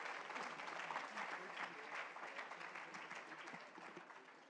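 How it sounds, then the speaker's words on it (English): Audience applause for a children's cultural performance at an SSE program fills the clip with steady clapping from a crowd, fairly even in level and fading slightly toward the end. "Let's give them another round of applause."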